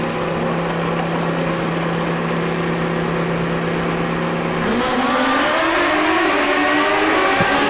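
Drag racing car at the 2019 Mancup World Finals: a loud, sustained engine drone at the line, shifting midway into a rising roar as the car launches down the strip.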